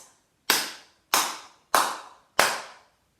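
Four even one-beat crotchets are sounded as sharp clap-like hits spaced about two-thirds of a second apart, each with a short decay, alone and fairly close.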